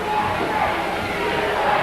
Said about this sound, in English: Apparently this crowd is really getting to not only Abudadien, but they're getting to Rip Oliver